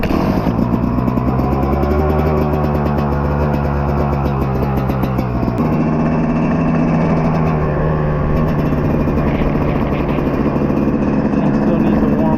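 A 2026 Yamaha YZ250 two-stroke dirt bike idles loudly up close while warming up, a steady burbling rattle that shifts pitch slightly midway, with a voice faintly underneath.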